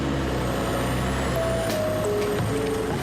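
A full garbage truck idling and pulling away at night toward the dump, a steady low engine rumble with faint high tones, no voices.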